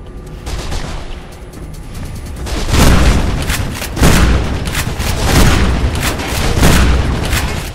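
Shotgun fire in Mirror's Edge, heavy booming blasts arriving in a loose rhythm of several shots, loud and close amid echoing gunfire.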